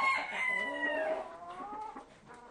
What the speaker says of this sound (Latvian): Melnās zīda vistas.